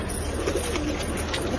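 Pigeons of an unlimited lineage cooing softly inside a loft, a low steady murmur of coos running through the whole moment without any talking.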